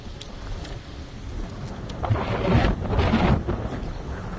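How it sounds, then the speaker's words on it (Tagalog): Strong wind outdoors in New Zealand, a steady low rumbling roar of gusts buffeting the microphone, swelling louder for a few seconds midway before easing back. "Grabe, mahangin."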